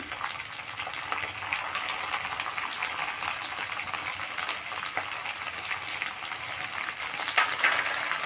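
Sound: chopped tomatoes frying in a pan

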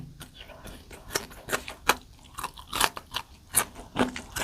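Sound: loud crunchy chewing while eating jackfruit stir-fry and vegetables

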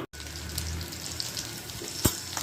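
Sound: water being added

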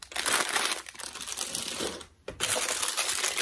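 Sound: crinkling plastic packaging of Dollar Tree haul items

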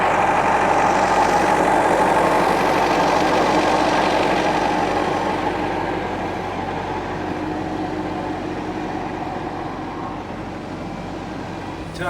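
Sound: MTZ tractor engine running

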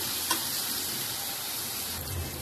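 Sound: onions sautéing in a pan

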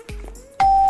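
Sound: doorbell ringing in Minecraft, video game

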